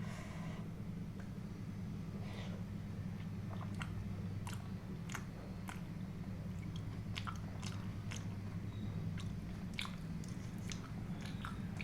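Someone eats creamy white sauce pasta close to the microphone, with repeated soft chewing and occasional biting sounds over a steady low background hum.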